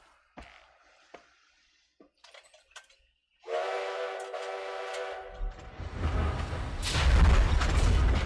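Train whistle effect for the Polar Express in an elementary school Christmas concert play, a sustained harmonic blast with a low rumble building beneath it, following a few scattered clicks and bumps.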